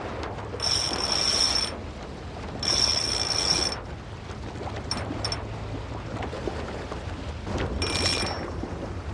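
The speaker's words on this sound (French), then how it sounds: "la bobine est partie, il y a eu un départ" Fishing reel on a Mediterranean jetty clicking out line in several ratcheting bursts as a fish runs, with quiet stretches between runs and steady outdoor background noise.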